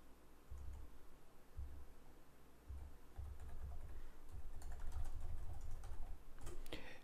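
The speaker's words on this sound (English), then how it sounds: "So I'm just going to type that in." Fingers typing an email address on a computer keyboard, a quiet run of soft, irregular key clicks over a low background hum.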